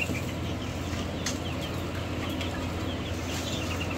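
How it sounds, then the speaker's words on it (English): A chicken-quail hybrid clucks faintly in soft, scattered calls over a dense, steady wash of farmyard noise. "Chicken quail hybrid."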